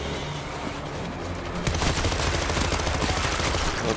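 Rapid bursts of automatic gunfire in a Moscow-set video game mission, a steady rattle that grows louder midway and continues to the end, with no talking.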